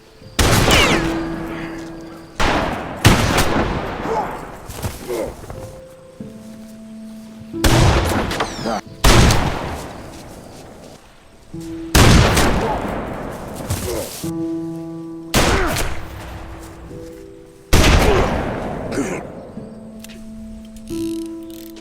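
Gunfire from a Western movie shootout rings out in repeated loud bursts of shots, each followed by a decaying echo, spaced every couple of seconds across a long exchange, with background music in the gaps.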